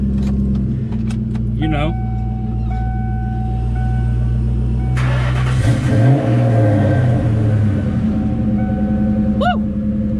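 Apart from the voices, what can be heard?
cold start of Mustang Cobra engine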